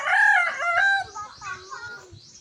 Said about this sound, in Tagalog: si Manok na naman